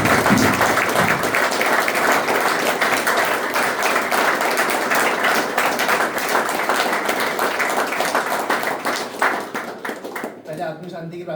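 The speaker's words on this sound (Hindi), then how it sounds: "पहले तो उनके लिए जोरदार तालियां" An audience at a recovery gathering gives loud, sustained applause celebrating a second sober birthday, with a crowd voice audible within the clapping before it trails off abruptly near the end.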